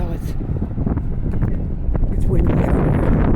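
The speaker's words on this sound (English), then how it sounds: "it's windy out" Gusty wind roars and buffets the microphone outdoors downtown, growing stronger toward the end, with indistinct voices faintly underneath.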